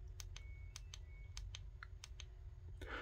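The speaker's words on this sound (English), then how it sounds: "it actually gives you a really good solid click" A rubber switch button on a Sofirn SC13 compact 18350 flashlight is pressed repeatedly, producing a string of small sharp clicks at an uneven pace, close up and faint over a low background hum.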